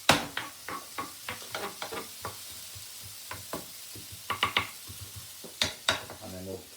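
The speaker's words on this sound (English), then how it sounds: "So in goes my onions, and same thing, they take about a couple of minutes to cook. And I'm just moving them around the pan." Onions fry in a pan with oil, a low sizzle running under repeated close scraping and clacking strokes as they are pushed around the pan.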